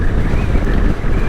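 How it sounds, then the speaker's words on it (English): Strong wind buffets the microphone in a steady low roar during a Royal Enfield motorcycle ride between Adelaide and Port Augusta, with gusty rumbling throughout and no talking. "It's quite windy today."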